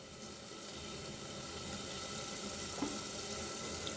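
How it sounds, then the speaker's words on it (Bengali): Water poured into a pan of fried onions while cooking bottle gourd, a steady running, splashing wash of water at moderate level throughout. "এখন আমি একটু পানি দিয়ে দিলাম"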